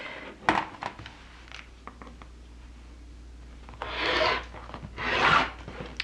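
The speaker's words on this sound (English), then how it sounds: "I'm just going to first trim off that selvage" Fabric selvage being trimmed off on a cutting mat, with two short swishing cuts near the end after a few faint taps and handling noises.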